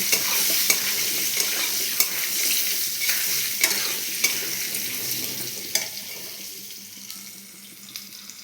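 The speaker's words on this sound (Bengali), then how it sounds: "এই আলুগুলোকে আমি লাল লাল করে ভেজে নেব" Potatoes fry in hot oil with black cumin, sizzling steadily close up under repeated stirring clicks, the hiss easing gradually toward the end.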